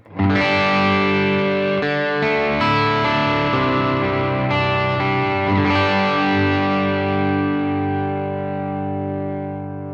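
A clean Gibson Les Paul Custom Shop electric guitar on the middle pickup plays a short sequence of chords and notes, warm and ringing with light chorus shimmer, decaying gently toward the end.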